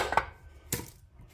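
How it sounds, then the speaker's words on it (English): Two sharp metallic knocks about half a second apart, close and crisp, a hammer striking an upside-down castle nut during front tubular control arm installation. "Smack her with a hammer."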